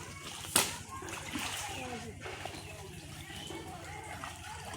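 Someone diving into a village fish pond, one sharp splash early on followed by sloshing and rippling water, with distant voices including a child in the background.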